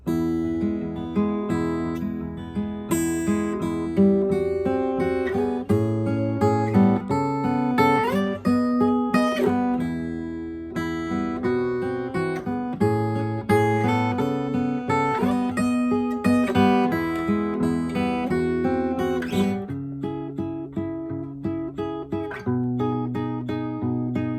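An acoustic guitar plays a lively melodic tune alone, steady picked notes and chords flowing continuously at a moderate, even volume.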